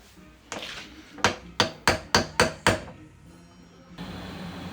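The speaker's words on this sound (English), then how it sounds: "Give it a whack." A hammer strikes an old rubber bushing in a BMW E28 subframe: one knock, a pause, then six sharp metallic whacks in a fast, steady rhythm, loud and close, followed by a low background hum.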